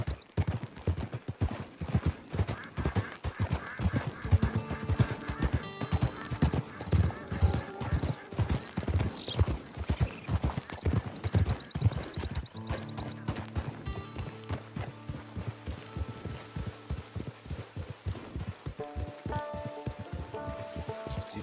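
In the Red Dead Redemption 2 Online beta, horse hooves clip-clop in a steady, loud rhythm throughout, with occasional whinnies, rain-like patter and game music over the hoofbeats.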